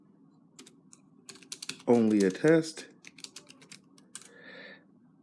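Typing on a physical Bluetooth keyboard paired with a Galaxy S7 phone, a string of quick, close, crisp key clicks at an irregular rhythm, with a person speaking briefly over the keystrokes.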